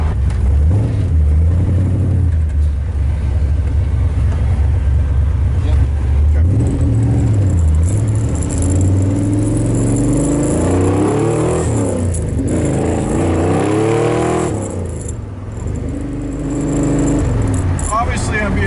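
Mad Max Pursuit Special Interceptor XB Falcon driven gently, a steady low engine rumble with rising and falling revs throughout, heard from inside the car while people talk over it.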